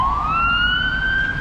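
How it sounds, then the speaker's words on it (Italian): An ambulance siren passes along a street, a loud rising electronic wail heard nearby over traffic rumble with no talking. "Ambulanza."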